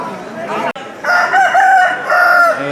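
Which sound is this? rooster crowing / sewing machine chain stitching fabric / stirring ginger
rooster crowing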